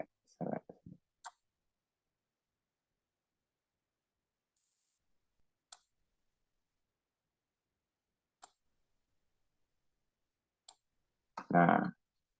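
Sparse, isolated mouse clicks during selection in structural drawing software, faint and spaced several seconds apart, with short bursts of speech at the start and end.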